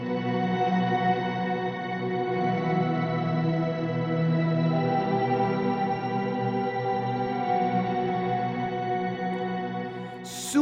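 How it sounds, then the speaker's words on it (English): An ambient electric guitar drone thickened by an Electro-Harmonix Micro POG octaver, a steady, layered sustained chord that hums on evenly for about ten seconds, moderately loud with no voices. "And with the Octaver, it sounds like this."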